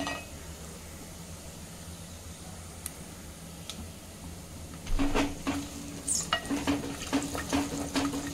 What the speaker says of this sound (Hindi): मेथी, सौंफ, दालचीनी, लौंग डाल के इसको थोड़ा भूनेंगे